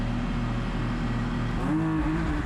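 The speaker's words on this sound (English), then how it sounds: "This car launches like crazy." A race car on the grid at Sonoma Raceway, with a steady, loud engine drone that holds level and then rises in pitch as the car launches, with no voices.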